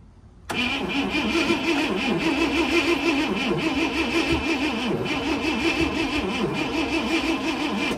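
A 1974 International Harvester 200 pickup engine cranks and catches, then runs steadily and loudly with an uneven, galloping pulse from a cylinder low on compression, close up with no talk.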